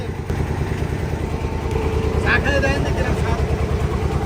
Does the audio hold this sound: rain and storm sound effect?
no